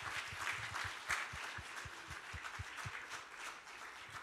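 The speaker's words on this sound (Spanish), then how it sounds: "les pido por favor que me ayuden con un fuerte aplauso para darle la bienvenida" An audience applauds to welcome a guest at a Spanish-language gathering, rhythmic unison clapping with a steady beat, faint and distant, running throughout without speech.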